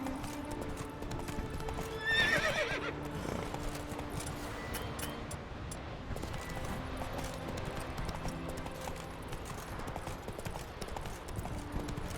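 Horse hooves gallop in The Witcher 3, a steady clip-clop rhythm running close and loud throughout, with a horse whinny near the start and game music underneath.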